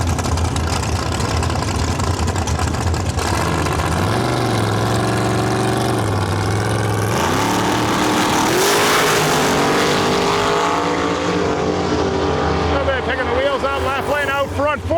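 A Heads Up Havoc drag race in Western Canada: race cars roar loud and close as they accelerate down the track, the engine pitch climbing in sweeps. A track announcer talks over the noise.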